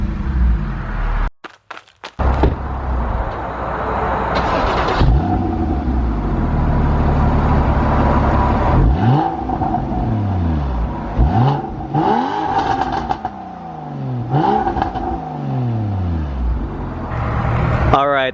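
A 2014 Porsche 981 Cayman S engine cranks, catches and settles into idle, then revs in several rising and falling blips, heard from outside the car at moderate volume with no talk over it.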